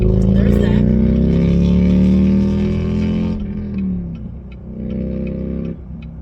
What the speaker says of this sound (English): We get it, you're riding a motorcycle.